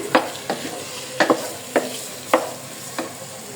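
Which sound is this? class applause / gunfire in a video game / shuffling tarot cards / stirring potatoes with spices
stirring potatoes with spices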